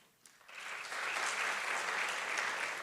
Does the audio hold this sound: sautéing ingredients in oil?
no